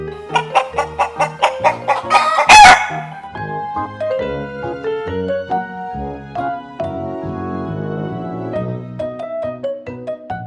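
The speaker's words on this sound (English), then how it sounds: "Chicken." A chicken clucks and a rooster crows in a farm animal name game: a quick run of repeated clucks leads into one loud crow, then a tuneful melody carries on.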